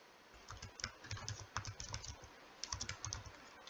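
Computer keyboard keys tapped in quick irregular bursts with brief pauses, close and fairly quiet, while a column name is entered during a spreadsheet-style data setup.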